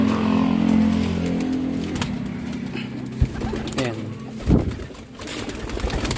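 Racing pigeons coo in low, throaty murmurs at a loft. The cooing runs repeatedly through the first seconds, close by, mixed with passing traffic and someone speaking nearby.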